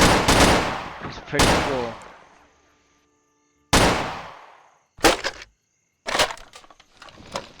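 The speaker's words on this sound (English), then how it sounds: "it's an interesting machine gun that he has" Machine gun fire in the strategy game Men of War: Assault Squad 2, interwar mod, crackling out in several loud, rapid bursts with short pauses between, alongside brief casual talk.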